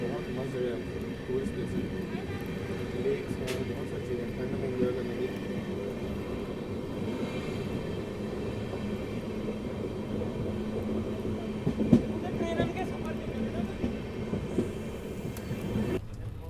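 A train on the Jodhpur–Jaisalmer line through the Thar Desert gives a continuous low rumble and rattle of wheels and carriages throughout, with people talking over it.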